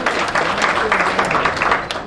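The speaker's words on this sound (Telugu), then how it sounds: "ఒక్కసారి మా చంద్రన్న కోసం గట్టే చప్పట్లు." Loud audience applause for Chandranna at a birthday celebration, dense continuous clapping from a crowd lasting the whole moment, close and steady.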